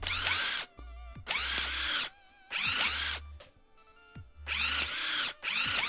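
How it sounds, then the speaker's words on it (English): A screw gun in a modded Minecraft game whirs in short, loud bursts, with about five separate runs of high-pitched drilling broken by brief pauses. "And then get your screw gun ready."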